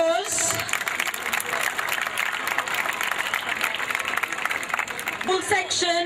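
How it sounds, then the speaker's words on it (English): A crowd claps at a school sports and drill display prize giving, with steady applause running under an announcer's voice from start to finish. "Let's hear a loud applause."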